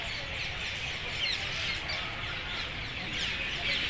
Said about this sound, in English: Birds are flying together.